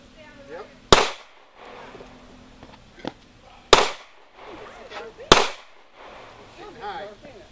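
Target shooting outdoors: three sharp, loud gunshots spaced a few seconds apart, with faint voices and background noise between them.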